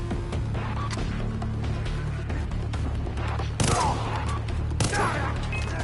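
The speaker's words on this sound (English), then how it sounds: "Now's the time we do some shooting." Dense gunfire from the video game Far Cry 3, on the Medusa's Call ship mission on hard Warrior mode: a steady rattling fusillade over a low hum, with sharper, louder bursts near the end.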